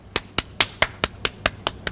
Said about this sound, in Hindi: ताली बजाऊं?